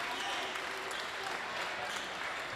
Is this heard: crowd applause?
yes